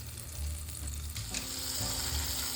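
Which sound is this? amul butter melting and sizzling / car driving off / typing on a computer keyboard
amul butter melting and sizzling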